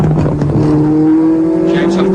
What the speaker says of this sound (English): James Hunt, that red and white Marlboro McLaren M23, a 4-year-old car